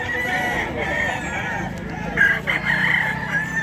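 A Boston Roundhead rooster at a Bocaue, Bulacan chicken market crows nearby, the call rising in the second half over a busy background of clucking fowl and people talking.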